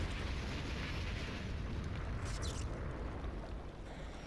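Rumbling, roaring underwater explosions from bombs dropped by a submarine in the LEGO City Undercover video game, a continuous low boom and wash of noise over a steady churning sea-like background, with no talk.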